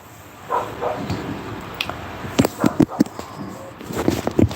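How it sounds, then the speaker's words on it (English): A dog barks in short, sharp yips and woofs, several in a quick cluster, fairly close, mixed with scattered knocks and a person's voice at a casual late-night indoor setting. "Y'all hear the dog?"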